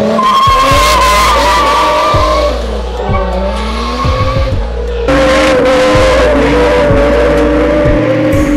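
A car with a 2JZ engine drifts on a city street in Brazil. Its engine revs rise and fall while the tires squeal in long, loud skids over a constant motor drone.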